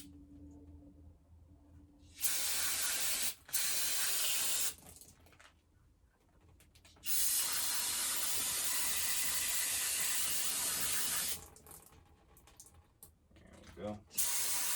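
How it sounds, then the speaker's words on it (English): Carpet cleaner sprayed onto a dirty Jonsereds 920 chainsaw in bursts, three loud hissing sprays with the longest lasting several seconds, separated by quiet gaps. "Maybe let's just spray it down with some carpet cleaner."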